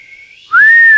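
A person whistles a single sustained tone that starts thin and wavering, then jumps into a loud, steady, clear note with a slight upward bend before cutting off.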